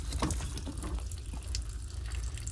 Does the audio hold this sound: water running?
yes